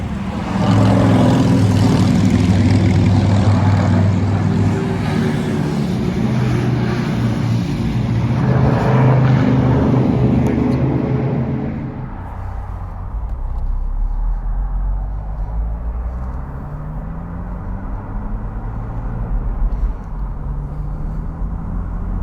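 A Porsche with its PSE sports exhaust switched on accelerates hard in second gear from just over 3,000 rpm, a loud, deep engine roar rising in pitch as it pulls away.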